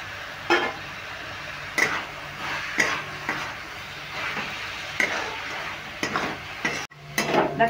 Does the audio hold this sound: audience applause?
no